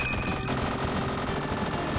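In the ZeroRanger shoot-'em-up video game, rapid, dense gunfire keeps up in a constant loud rattling stream of overlapping shots with no pause.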